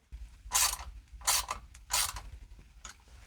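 A fill plug being threaded and snugged into a Jeep Wrangler JL transfer case in a home garage, heard as three or four short, close metallic ratcheting bursts with brief pauses between them.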